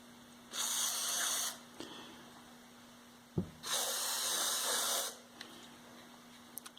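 WD-40 spray can lubricating the moving parts of weathered, rusty equipment, two distinct bursts of close hissing spray about a second long each, separated by a brief clunk, with quiet handling noises after.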